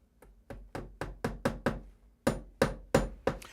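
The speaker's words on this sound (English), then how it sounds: "Now I'll just tack it at the top." Hammer taps tacking a strip at the top of a sash window, a close series of about a dozen sharp knocks in a steady rhythm with a short pause partway through.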